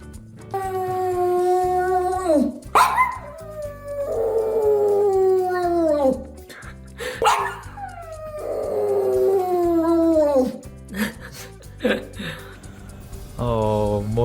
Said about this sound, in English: Mochi was barking at this raccoon